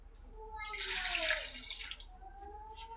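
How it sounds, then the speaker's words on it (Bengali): Water poured from a vessel into a fish and potato curry in a pan, a splash and rushing pour that builds quickly, then tapers to a trickle over about two seconds. "তরকারিটা এখন আমি পানি দিয়ে দেবো পরিমাণ মতন।"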